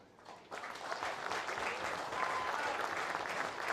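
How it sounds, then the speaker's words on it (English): A crowd applauds a football team, Southern United, after a senior men's Coastal Premier League grand final, clapping rising after a brief quiet start and holding steady, dense and fairly close. "One last big round of applause for Southern United."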